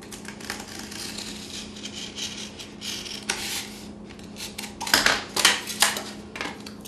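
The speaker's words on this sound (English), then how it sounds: "X-Acto's a little bit faster than your knife, so you just go ahead and cut the ear." A sharp X-Acto knife slices through a bunny ear shape in a series of brief scraping, rasping strokes, with the last few cuts coming closer together and louder over a steady low hum.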